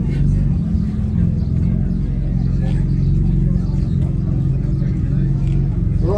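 A motorcycle engine idles and rumbles steadily and loudly throughout, a low continuous drone with people talking over it.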